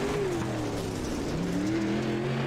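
Vehicle engine drones steadily throughout at a dirt track race, with a sustained low motor hum and slowly shifting pitch, consistent with a pace truck circling the oval under track ambience.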